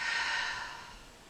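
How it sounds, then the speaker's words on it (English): A long, soft exhale during a gentle low-back yoga session, a breathy rush of air that fades away slowly over about a second, close and alone. "A long exhale here."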